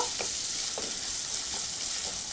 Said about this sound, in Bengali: দিয়ে আমি সামান্য পরিমাণ লবণ দেবো পেঁয়াজটা যাতে তাড়াতাড়ি গলে যায় এই সামান্য পরিমাণ লবণ দিলাম এবার আমি নাড়াচাড়া করে নেব